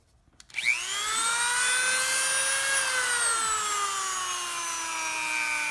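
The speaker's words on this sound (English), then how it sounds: "So we got to take our Dremel and just alter this frame just a little bit" A Dremel rotary tool spins up and cuts into the die-cast metal frame of a 1/64 scale First Gear Mack Pinnacle truck, a high, steady whine with a gritty edge and slight pitch sag under load, close and continuous.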